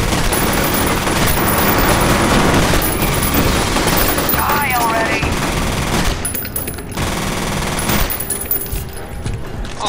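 Rapid automatic gunfire from a video game, loud and sustained bursts of shots filling the whole stretch, with players talking over it.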